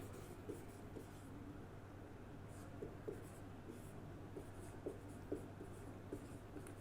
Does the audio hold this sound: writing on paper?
yes